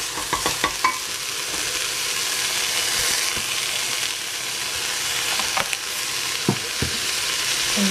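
Carrot, celery and capsicum sizzling in cooking oil, a steady close frying hiss broken by occasional clinks and scrapes of stirring.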